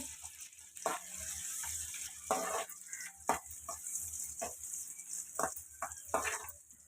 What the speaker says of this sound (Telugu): ఇప్పుడు నెయ్యి వేడవుతుంది కదండి అండ్ బాదం కిస్మిస్ వేసుకోవాలి ఇవి ఫ్రై చేసుకోవాలండి